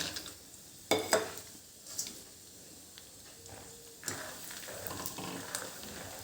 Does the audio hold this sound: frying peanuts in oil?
yes